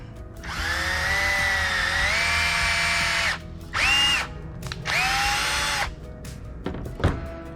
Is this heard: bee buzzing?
no